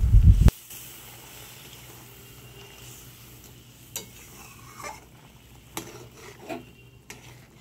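A vegetarian taro curry is stirred in a pot after water is added, starting with a brief loud clatter, then a quiet simmering hiss with several sharp scrapes and clinks of a spoon spaced out over the seconds.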